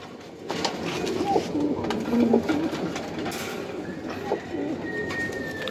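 Giribaz pigeons of the Palla line coo repeatedly in a loft. The rolling, overlapping calls sound close and moderately loud against a constant background hum.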